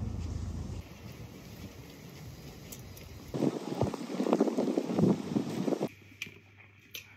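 Wind gusting and buffeting outdoors, a steady low rush that swells louder in the middle before dropping back to a quieter hiss.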